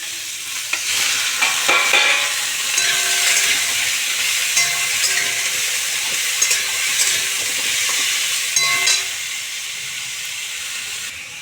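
Chicken frying with other ingredients in a pan sizzles loudly and steadily throughout, broken by repeated scraping and clinking as it is stirred, with no talking.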